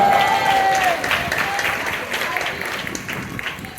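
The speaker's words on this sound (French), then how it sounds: "On applaudit l'église puissamment." A church congregation applauds strongly during a French-language sermon, a dense wash of clapping that stays loud and then eases slightly over several seconds, with a voice briefly audible near the start.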